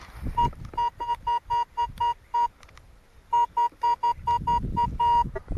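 A metal detector in the field sounds a steady run of short, identical electronic beeps in two rhythmic series separated by a brief gap, loud and close, over faint rustling of ground and handling.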